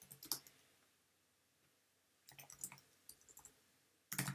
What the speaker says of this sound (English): I'll try to type properly.